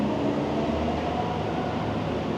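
A freight train sits in a rail yard before heading west, a steady broad rush of air and machinery hiss filling the scene at moderate distance with no voices.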